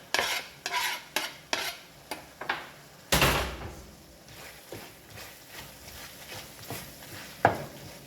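A spoon stirs tomato and coriander paste in a pan with a run of evenly spaced scraping strokes. One louder clatter comes midway, then softer, irregular stirring follows with no talking.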